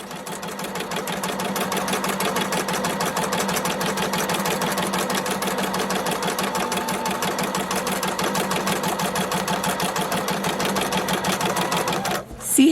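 A sewing machine runs fast and steady during free motion quilting, with a continuous close rhythmic chatter that lasts nearly the whole clip and stops abruptly at the end.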